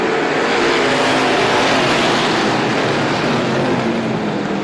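Strictly Stock race cars roaring back up to speed at Star Speedway on a green-flag restart, a dense, loud wall of several engines droning steadily together at a distance.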